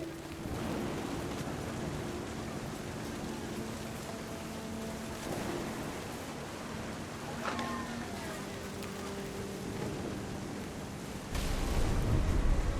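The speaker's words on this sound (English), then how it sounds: "The thunder sounded much too close and full of angry power." Rain hisses steadily in What Remains of Edith Finch, with low rolling thunder rumbling underneath and a heavier thunder swell near the end.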